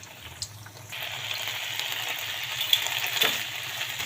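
Sausage sizzles and spits in a frying pan, a steady hiss that swells after the first second with a few sharp pops and clinks, fairly close, with no talking.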